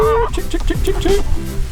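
Backyard homestead chickens cluck and make short rooster-like calls close by while being fed, several brief bursts over a low background hum.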